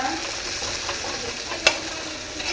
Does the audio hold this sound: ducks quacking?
no